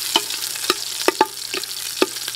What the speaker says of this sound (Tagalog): Isunod na natin yung ating sibuyas dito sa ating pressure cooker na may mantikang maliit.